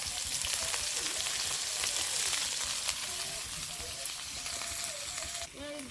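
Chopped onion and cumin seeds fry in oil for Bengali potato curry, a dense, loud hiss of frying filling the clip with faint stirring sounds and brief tonal squeaks, ending in a short scrape.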